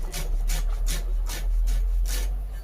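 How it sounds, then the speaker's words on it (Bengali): A knife chops through rolled, cleaned leaves, finely shredding them on a board in a steady run of crisp, scraping strokes repeated about twice a second, close and fairly loud over a low hum. "দেখো মিহি করে কাটছি"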